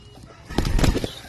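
Chickens in a backyard coop give a short burst of clucking and wing flapping, rising to a busy peak mid-clip before settling, close and moderately loud with no talk.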